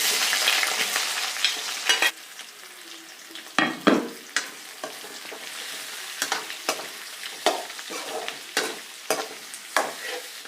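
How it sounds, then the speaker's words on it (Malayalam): Sliced onions and curry leaves fry in a pan, with a steady close sizzle broken by a series of sharp scraping stirs that grow more frequent toward the end. "കറിവേപ്പില നന്നായിട്ട് മൂത്ത് വരുമ്പോഴത്തേക്ക് കട്ട് ചെയ്ത് വെച്ച രണ്ട് സവാള"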